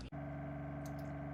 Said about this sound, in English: This is the Waterdrop reverse osmosis countertop unit.